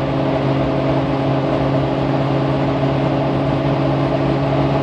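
A truck engine cruises in fifth gear on a highway at around 74 mph. It makes a loud, constant low drone with a steady hum and no shifts or revving.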